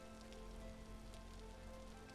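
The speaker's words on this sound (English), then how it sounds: "When will it stop raining?" In the video game Vintage Story, rain falls in a soft, continuous patter, quiet and uniform over a low ambient hum, with no voices.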